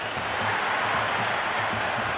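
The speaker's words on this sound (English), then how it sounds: "It's evident and ever so audible that the crowd is at near bursting point at today's play" A stadium crowd in the cricket video game Cricket 26, Pakistan versus Sri Lanka, roars and applauds in a steady, dense wash of cheering and clapping that holds at full level throughout.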